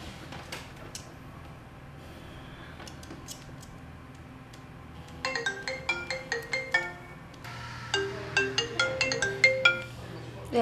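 A phone ringtone chimes in repeated melodic bursts, growing clearer over several rings, with ticking and a faint background hum before the call is picked up.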